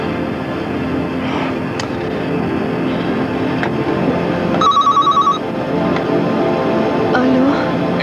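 A telephone rings in a 1996 Turkish television drama, a short burst of repeated electronic trills standing out in a quiet indoor room with faint background murmur.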